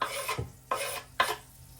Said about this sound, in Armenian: Դաբավիտ ենք անում սոխը